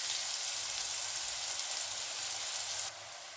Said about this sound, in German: Ich brate hier die Zwiebel